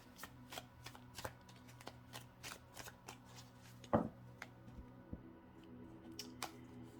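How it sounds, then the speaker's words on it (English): Tarot cards being shuffled and drawn during a card reading, a steady run of soft papery flicks and riffles with one sharper snap, close up and without talk. "let's pull a few more cards"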